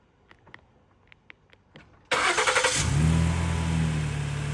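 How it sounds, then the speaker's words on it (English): A Ford Explorer starting by remote key fob: after a few faint clicks the engine cranks, catches with a loud burst and settles into a steady idle rumble. "Let's go ahead and remote start it again."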